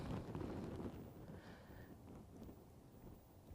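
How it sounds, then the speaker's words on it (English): Wind gusts over a horse stable during rain, a faint, rough rumbling buffet on the microphone that swells at the start and then eases to a lower steady rush. "Sounds like it's pretty windy there."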